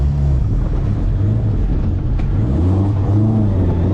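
A Nissan Sunny truck (Datsun 1200 ute) engine idles on a dyno at just over 1,000 RPM, with a steady low, even rumble and throb, loud and close, with no voices.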